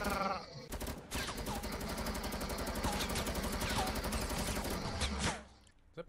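Dense, rapid gunfire from Fortnite, a long unbroken burst of automatic shots that runs for several seconds before stopping abruptly, loud and close.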